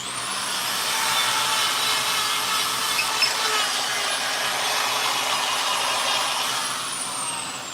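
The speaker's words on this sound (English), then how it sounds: "Working on shaping and sanding right now." A power sander whirs steadily against a chainsaw-carved black walnut heron, a continuous close grinding hiss with no talking.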